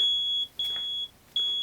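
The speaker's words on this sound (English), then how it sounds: "The smoke detector alarm in my house was going off." A house smoke detector alarm sounds three sharp, piercing high beeps in a quick row, each separated by a brief gap, clear and close in a quiet room.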